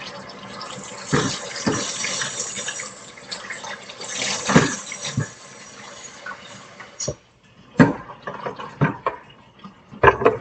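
Water runs from a tap in a steady broadband gush for several seconds, then stops and starts in short bursts with clinks and handling noises.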